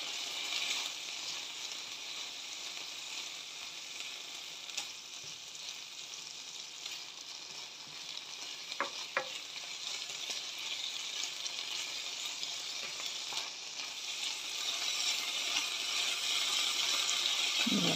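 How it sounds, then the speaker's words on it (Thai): Small new potatoes stir-frying in butter in a pan, a steady soft hiss of frying throughout with a couple of faint clicks, growing slightly louder near the end, no talking. "เราผัดด้วยเนยหอมมากเลยนะคะ"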